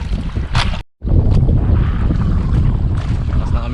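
Strong northeast monsoon wind buffeting a microphone on a small fishing boat at sea, a loud steady roar broken by one brief dropout, with water and hull noise underneath.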